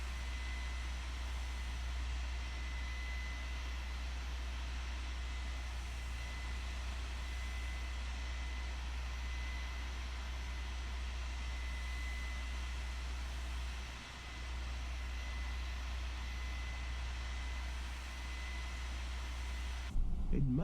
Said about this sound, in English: Engine motoring.